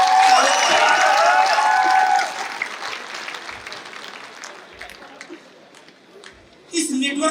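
Audience applause fills a stadium at an annual network-marketing celebration, loud and dense clapping at first, then fading to a softer scattered patter before a brief renewed burst near the end.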